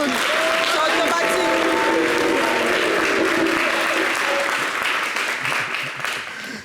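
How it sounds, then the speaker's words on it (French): Sustained loud applause from a TV studio audience greeting a woman on a French variety show, dense and even for several seconds before tapering, with faint music and voices beneath. "vous applaudissez en même temps, on n'a pas besoin de vous dire"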